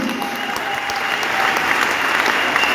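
A church congregation claps and cheers for Jesus, dense steady applause from a crowd filling the room, loud and continuous throughout with a faint hum of voices underneath.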